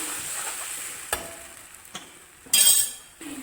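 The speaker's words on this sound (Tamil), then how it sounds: "இப்போ பாருங்கள் ஒரு கொதி வருதா ஒரு கொதி நல்லா வருது பாருங்கள்" Tomato gravy in a pan comes to a boil, bubbling and sizzling steadily, with a few clinks and a louder burst of spattering near the end.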